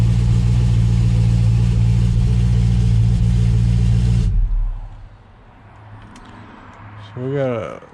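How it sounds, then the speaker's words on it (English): A Chevrolet C10 truck engine runs loud and deep, a steady heavy rumble that suddenly cuts off, leaving quiet background noise and then a brief sweeping electronic tone. "Your truck is really loud."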